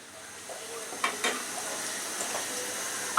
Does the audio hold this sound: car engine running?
no